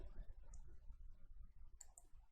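Computer mouse clicks in an Excel spreadsheet session, a few faint short clicks scattered over a low background rumble with no talking.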